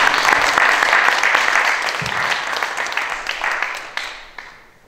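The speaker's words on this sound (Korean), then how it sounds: "박수로 환영해 주시기 바랍니다." An audience at an art song concert bursts into close, energetic applause that is thick at first and thins out over about five seconds. Scattered claps fade out at the end.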